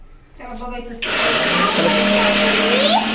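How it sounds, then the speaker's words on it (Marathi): A kitchen mixer grinder starts up and whirs loudly and steadily while grinding beetroot paratha ingredients, its motor pitch shifting slightly as the load settles, following a brief lower hum at the start. "याला थोडस ग्राइंड करून घेते"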